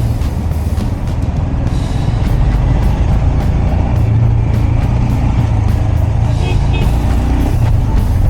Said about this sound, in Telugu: ట్రాఫిక్ స్టార్ట్ అయిపోయింది మనకి ఇక్కడ నుంచే.